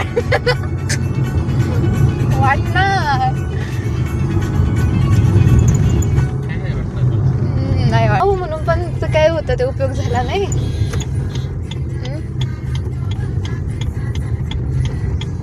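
A car driven along a road near Shirur and Pune, its steady engine and road rumble running throughout, with people talking inside over it and a few brief horn-like tones passing outside.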